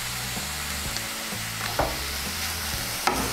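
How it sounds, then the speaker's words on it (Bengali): Radish being stirred with salt and turmeric in a pan for a Bengali radish chorchori, a steady scraping and sizzling with rhythmic spoon strokes and a couple of sharper clinks, close and alone without speech. "নুন আর হলুদটা ভালো করে মিশিয়ে নেব।"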